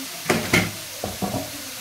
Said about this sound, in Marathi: आणि ही छान व्यवस्थित परतून किंवा मस्तपैकी सगळे मिक्स करून घेऊया।